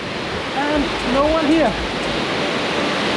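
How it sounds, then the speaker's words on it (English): A powerful waterfall in Bali roars as a steady, loud wash of falling water, while a person speaks briefly over the noise. "This waterfall is so powerful."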